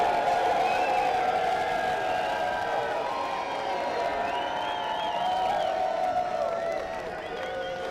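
A large stadium crowd at a Seattle versus San Diego rugby match roars in a steady, dense wash of cheering and chatter that keeps on for the whole stretch and eases slightly near the end.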